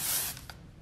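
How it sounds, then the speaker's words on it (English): A short hissing burst of texture spray misted onto hair, close and brief, fading into quiet. "I will just give it a little bit of texture spray."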